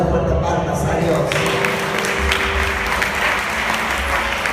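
A church congregation claps loudly and continuously in praise during a healing sermon, a dense, close wash of many hands with a low rumble underneath, and a voice carries over it at times.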